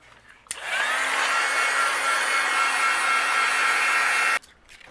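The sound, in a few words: heat gun melting embossing powder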